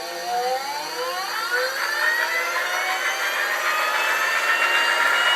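A motor run by a Gerard Morin controller starts up and spins to speed, giving a loud steady whine whose tones glide upward and then hold, continuous and close with no talking.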